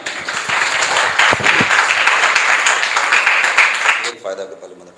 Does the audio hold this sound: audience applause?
yes